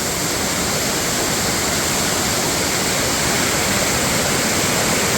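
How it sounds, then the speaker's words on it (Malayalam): The large Kannampadi waterfall roars in a constant, dense rush of falling water, loud and close, with no other sounds over it. "കണ്ണമ്പടിയുടെ മുകളിൽ നിന്നുള്ള വെള്ളച്ചാട്ടമാണിത് നമ്മൾ ഈ കാണുന്നത്."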